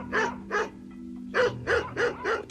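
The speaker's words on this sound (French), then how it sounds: "Et ils entendent en arrière-plan des aboiements lointains." Distant dogs barking in bursts of two or three yaps, faint and muffled as if picked up on a phone recording, with a steady low hum underneath and no voices.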